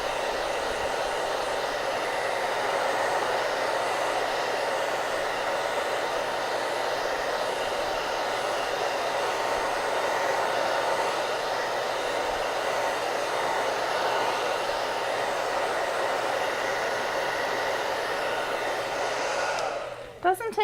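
A hair dryer blows on a wet craft surface for about twenty seconds, giving a loud, steady, close whoosh that holds without a break before it cuts off at the end.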